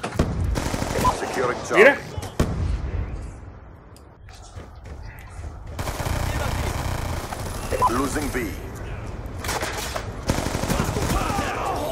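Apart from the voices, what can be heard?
gunfire in video game Black Ops 2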